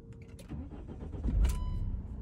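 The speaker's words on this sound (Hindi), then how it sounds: "गाड़ी के इग्निशन को ऑन।" Mahindra XUV500 SUV with its ignition switched on and engine cranking and catching inside the cabin, a short broadband starter burst swelling into a low steady idle rumble, heard close with no talk.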